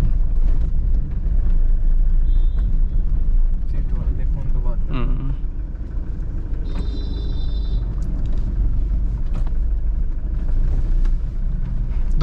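A ten-year-old Toyota Fortuner 3.0 4x4 drives along, its engine humming low and steady under road rumble, with a few mechanical clicks and someone talking throughout.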